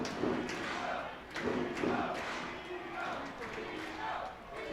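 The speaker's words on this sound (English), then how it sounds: "Vito chants in the crowd." Baseball crowd at a minor league game between the Harrisburg Senators and Reading Fightin Phils chanting the name Vito in rhythmic swells, mid-distance crowd noise rising and falling in repeated bursts.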